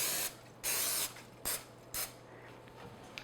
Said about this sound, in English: just spray it with one of these non-stick